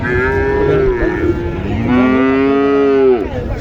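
A crossbred cow at a cattle market in Joypurhat gives one long, loud, wavering moo that swells midway and cuts off near the end, with market noise murmuring behind it.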